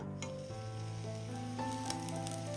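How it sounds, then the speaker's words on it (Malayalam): Ghee heating in a hot kadai gives a steady, soft sizzle that runs throughout, partly masked by tonal background music. "ഇനി ചൂടായി കിടക്കുന്ന ഒരു കടായിലേക്ക് 1 ടേബിൾ സ്പൂൺ നെയ്യ് ഒഴിച്ചു കൊടുക്കുക"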